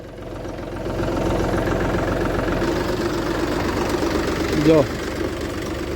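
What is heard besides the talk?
tractor engine idling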